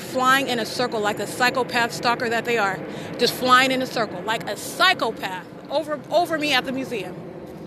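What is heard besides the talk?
None of the usual background noises is heard.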